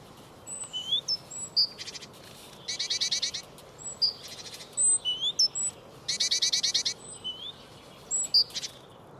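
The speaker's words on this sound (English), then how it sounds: "the tits that sing very early in the morning scarcely change their singing times" Tits sing in the early morning at a feeding station, giving repeated bright rhythmic phrases and high whistled notes in regular bursts, close and clear over a faint, quiet background.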